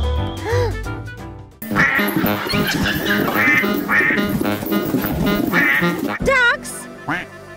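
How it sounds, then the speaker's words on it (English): Ducks quacking loudly and repeatedly in a dense, overlapping chorus, nasal calls piling up close by, with a voice speaking over them at the start and end. "Ducks!"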